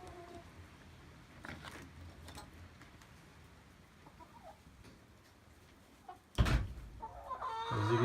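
Chickens cluck softly amid rustling, with louder, closer clucks and squawks breaking out near the end.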